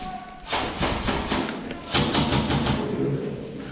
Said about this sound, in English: Mini gun's going.